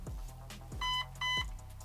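An airsoft gun's ETU MOSFET, fitted with an 11.1 V 900 mAh battery in a Rossi Neptune SAS Gen 2, gives two short clear electronic beeps in quick succession over low background handling noise.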